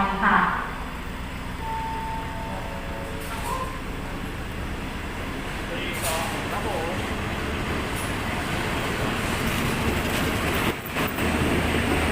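Train 252 stands at Ratchaburi railway station in Thailand, a steady rumble of engine and rail noise filling the scene with brief clanks, while a voice speaks near the start.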